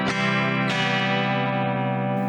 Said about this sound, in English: So it's got lots of slow chorus